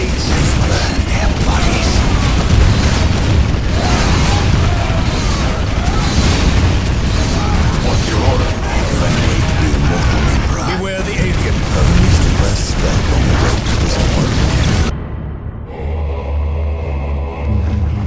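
Weapons fire and explosions in the Dark Crusade strategy game during a Space Marine campaign battle, a dense continuous barrage of booms and gunfire that cuts off abruptly into quieter rumbling, with voices speaking over it.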